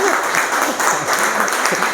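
An audience claps in sustained, dense applause that fills the whole stretch, loud and close, with a voice faintly mixed in.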